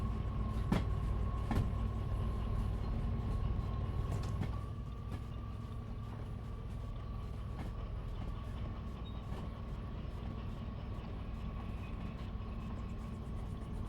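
S282 steam locomotive in the Derail Valley game rolling along rails: a steady low rumble with a sustained tone and periodic sharp clanks from the wheels, loudest in the opening seconds and then continuing evenly.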